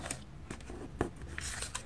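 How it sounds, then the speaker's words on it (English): A sheet of paper is folded in half while making a paper airplane. Soft, close crinkles and sharp creasing rustles come in several quick bursts, with no talking. "And now you can fold the paper in half."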